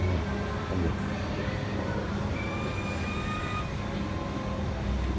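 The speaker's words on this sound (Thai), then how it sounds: "โอ้รถไฟฟ้าสายสีเหลืองวิ่ง" A yellow line monorail train runs past with a steady rumble and a thin high electric whine rising partway through, moderately loud with no talking.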